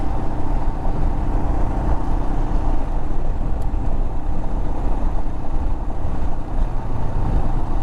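Motorcycle riding through the Mojave Desert, a steady loud engine drone and road rumble running continuously without pause, with no voices over it.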